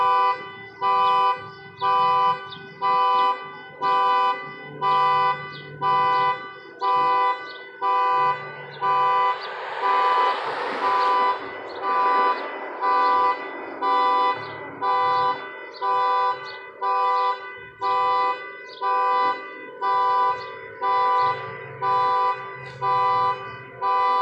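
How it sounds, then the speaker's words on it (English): A car alarm blaring nearby at a campsite, a loud repeating honking tone pulsing in regular cycles throughout, with a brief rush of other noise in the middle. "Somebody alarm going off."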